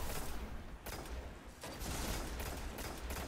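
High caliber gunfire in the game Destiny, a dense run of sharp shots and clattering bursts over a noisy, rumbling backdrop, moderately faint.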